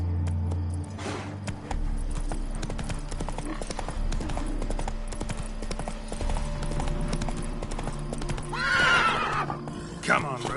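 Roach the horse trots in Witcher 3, hooves clip-clopping steadily and close. Near the end a loud whinny rings out. A voice speaks briefly at the start.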